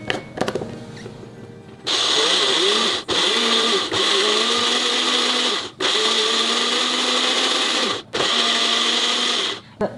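A blender grinds soaked mung beans and glutinous rice with a little water in loud, steady whirring bursts, pausing briefly three times between runs.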